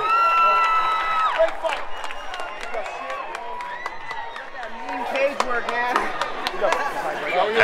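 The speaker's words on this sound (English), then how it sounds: "And also a round of applause for his opponent, Tyler Mendoza." A crowd at a fight event cheers and claps after the decision, with shouts and whistles over steady applause while an announcer's voice and other talk carry through the noise.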